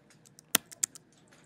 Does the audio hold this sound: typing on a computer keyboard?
yes